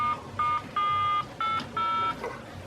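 Buttons on an old telephone produce a series of short electronic tones, five or six distinct beeps of uneven length with brief gaps between them, fairly faint against a quiet background.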